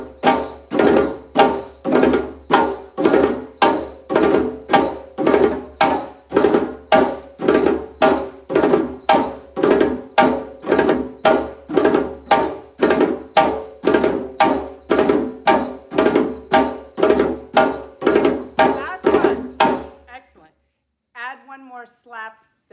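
A djembe plays a steady, repeating pattern of a four-stroke roll followed by a staggered slap, with sharp, close hand strikes for about twenty seconds before stopping.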